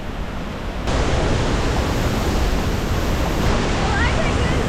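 Waterfall in Bali roaring as a dense, steady rush of falling water, loud and close, with the spray hitting hard and no clear breaks.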